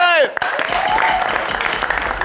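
Studio audience applause at the close of a live Kenyan late-night talk show, a dense patter of clapping that swells in after a short cheer or shout and carries on steadily to the end.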